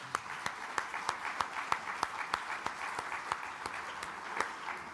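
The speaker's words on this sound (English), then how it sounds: "let's give a big round of applause for this panel" An audience at a shipowners' forum in Singapore applauds a panel, with one nearby pair of hands beating a sharp, regular rhythm of distinct claps over a softer, sustained bed of crowd clapping.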